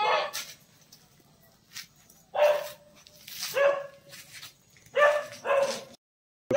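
Dogs squabble and bark outdoors, with bursts of snarling barks, yips and whimpers in several clusters at mid distance, separated by quieter gaps.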